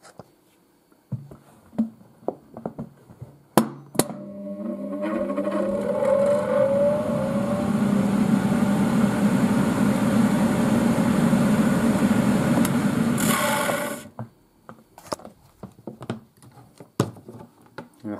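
A 1980s Tefal Spinmaster spin dryer spinning towels begins with clicks and a clunk, then rises into a loud whirring drone with a climbing whine that holds steady for about ten seconds before the brake cuts it off abruptly, leaving scattered knocks and handling sounds.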